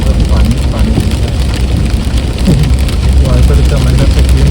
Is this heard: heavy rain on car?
yes